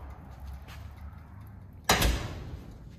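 A shop door shuts with a single sharp, close clack and a brief rattle against a quiet room hum, with no voices.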